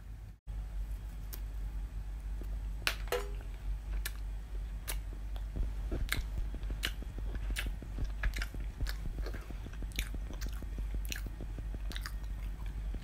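Close-up biting and chewing of Sunrice rice chocolate, with crisp crunches followed by a steady stream of small snaps and mouth sounds over a low hum, with no talk.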